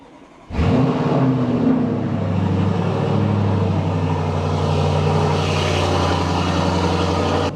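A car engine, long unused, cranks and fires up abruptly in the cold, then settles into a loud, steady idle rumble close by.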